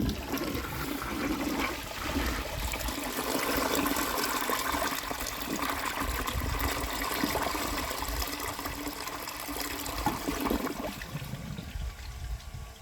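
A 1951 Crane Neuday toilet flushing with its bowl rinse, a loud close rushing of water that runs strongly for about ten seconds before tapering off.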